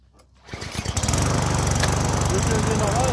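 A small combination lawn mower and brush cutter engine catches after a few brief pulls and rises to a loud, steady close-up drone that runs on without letup.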